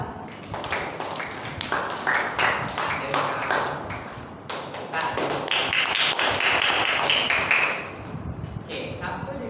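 Pupils clap their hands in a classroom, a run of sharp claps that swells into a dense, sustained burst for several seconds before thinning out near the end.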